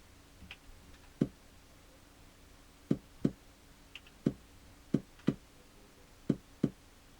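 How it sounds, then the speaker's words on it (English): Sparse, punchy drum machine kick drum hits in an uneven pattern, fairly quiet and dry, with gaps between beats and faint clicks underneath. "I'll set it to the bass drum and maybe we'll do something like this."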